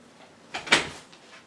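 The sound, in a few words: door being opened for a cat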